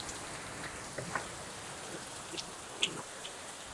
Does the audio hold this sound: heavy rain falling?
yes